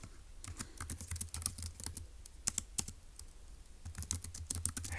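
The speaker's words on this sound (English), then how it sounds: "So let's go ahead and type that up" Typing on a computer keyboard in quick, irregular bursts of crisp key clicks, close and fairly soft, with short pauses between runs and no voices.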